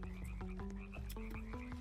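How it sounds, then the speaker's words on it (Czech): A frog croaks repeatedly in the Roblox game Wonderland Obby, a fast rhythmic series of loud, close croaks with a buzzy tone that fills the whole moment without any voices. "žáby a kuňka i tady"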